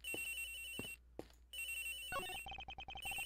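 Electronic phone ringtone from the Ace Attorney Investigations video game, sounding as repeated bursts of bright synthetic tones that break into a rapid stuttering pattern near the end, loud and alone with no talking.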